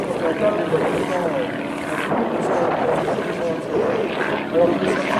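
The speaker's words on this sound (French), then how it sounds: "le moteur qui équipe ce Morane est un moteur continental qui développe pratiquement 100 fois plus" Morane light aircraft with a Continental engine running, a steady close propeller drone with a rough, throbbing texture, while someone talks over it.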